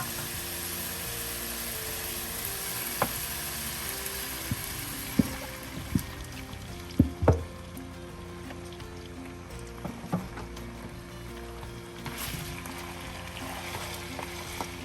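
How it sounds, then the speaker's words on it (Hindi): Goat head frying in oil in a pan, a constant broad sizzle with occasional louder pops and spatters, close and steady, no speech. "और इसको 2-3 मिनट के लिए फ्राई कर लेंगे"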